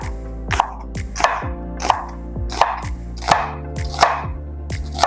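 Onions are chopped with a knife on a board in a home kitchen, about eight crisp, evenly spaced chops ringing out close and clear with no talking.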